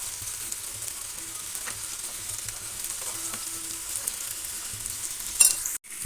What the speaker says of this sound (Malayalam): ചെറിയൊരു തീയിലിട്ടിട്ട് ജസ്റ്റ് ഒന്ന് ഷാലോ ഫ്രൈ ചെയ്തെടുക്കുക